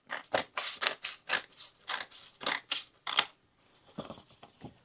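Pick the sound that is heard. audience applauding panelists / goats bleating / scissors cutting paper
scissors cutting paper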